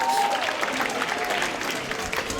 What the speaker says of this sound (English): Let's clap for red, everyone.